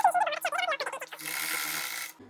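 After someone speaks briefly, an overlock sewing machine locks the side seam of a short kurti in one steady, close whirring burst of about a second that cuts off abruptly.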